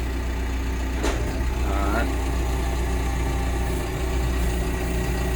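A John Deere 6115D tractor engine idles with a steady low rumble throughout, while someone speaks briefly over it.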